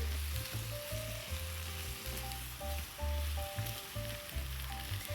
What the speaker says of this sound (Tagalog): hayaan na natin to dito hanggang sa ma-fry itong karne sa kanyang sariling mantika